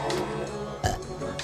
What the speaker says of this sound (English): Who just burped?